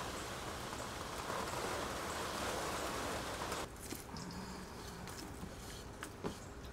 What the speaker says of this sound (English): Yay, the rain's coming down.